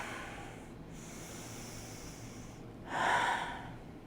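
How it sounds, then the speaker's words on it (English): Steady breaths drawn in and pushed out through the nose during a kettlebell workout, a few soft cycles followed by one louder, fuller exhale near the end, with no talking. "take a few breaths through the nose"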